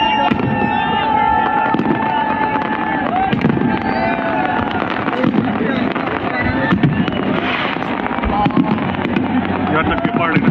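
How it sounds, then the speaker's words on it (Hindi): New Year fireworks over the Eiffel Tower in Paris crackle and boom continuously in a dense, loud wash, with a crowd murmuring and people talking close by. "बहुत बड़ा फायर वर्क है ये।"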